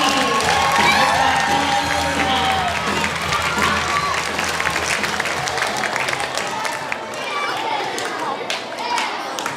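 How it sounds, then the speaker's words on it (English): A school assembly audience applauds steadily for several seconds, a dense wash of clapping with some cheering mixed in, gradually thinning toward the end. "one more round of applause as they head back to their seats"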